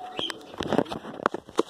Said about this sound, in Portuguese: o bendito passarinho meio cantando toda hora